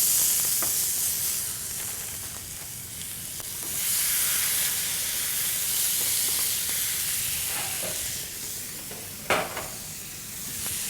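A seasoned bone-in ribeye (tomahawk) steak sears in a cast iron skillet with canola oil, giving a loud, steady close sizzle and hiss with a few sharp pops.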